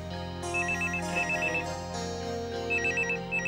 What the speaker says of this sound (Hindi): ये फोन की घंटी भी पूरे घर में एक साथ नहीं बजती है